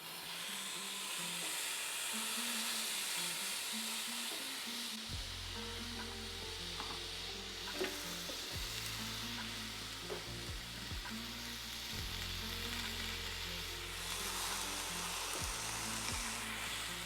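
Smoked ribeye steak and seasoned broccoli sizzle on an air fryer grill preheated to 510 degrees, a steady loud frying hiss running throughout with low hum and occasional small clicks, no talking.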